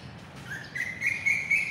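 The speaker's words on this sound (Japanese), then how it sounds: "鳥の声もきれいな。" Near Khlong San station in Bangkok, a single bird gives a thin, high, rising chirp that lasts about a second over faint outdoor background noise.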